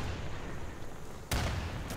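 A single heavy gunshot in the tactical shooter Insurgency, a sharp boom breaking through a steady background rumble near the end, then a short reverberant tail.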